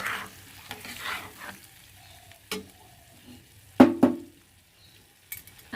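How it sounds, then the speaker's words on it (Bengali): Soaked atap rice tipped with its water into a pan, giving a short splash and a couple of clinks midway through a quiet stretch of low background hiss. "দিয়ে দেবো আগে থেকে ভিজিয়ে রাখা আতপ চাল। আমি জল সমেতই দিলাম।"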